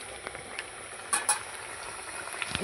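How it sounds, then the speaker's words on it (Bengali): Fish curry bubbling steadily in a pan, a soft continuous simmer and sizzle with a couple of brief louder pops partway through, close and fairly quiet. "এই দেখুন কত সুন্দর ফুটছে।"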